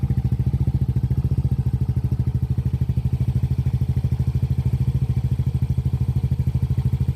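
A Yamaha NMAX 155 v2 scooter engine, freshly fitted with a replacement block set after losing compression from oil neglect, runs loud and close with a rapid, even, thumping idle pulse that holds steady throughout.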